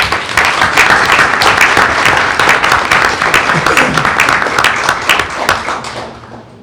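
Loud, sustained applause from a crowd at a school board meeting honoring teachers, dense clapping throughout that tapers off at the close, with a few voices mixed in.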